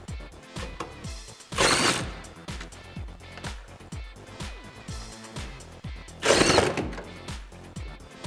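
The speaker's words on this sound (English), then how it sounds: "With your T15 Torx," A T15 Torx driver backs out the taillight bolts on a 2014-2018 Chevrolet Silverado 1500, giving steady rapid ratcheting clicks close up, broken by two louder bursts of scraping and handling noise.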